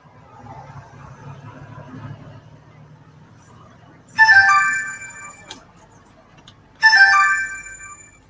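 A phone ringtone plays in two loud, bright bursts separated by a pause, over a quiet room with faint low background noise.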